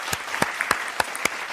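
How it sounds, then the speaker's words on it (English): Audience applause at the FameLab International Final 2024 science talk competition, heard as a handful of sparse, separate claps spaced apart, fairly faint, like a small group or the tail of a round of clapping. "Let's have one huge round of applause for everyone who's taken part today."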